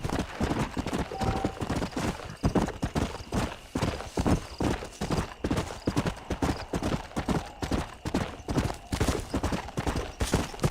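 A horse gallops hard in Red Dead Redemption, its hooves pounding in a rapid, rolling rhythm that stays loud and close throughout, with brief sharp cracks mixed in.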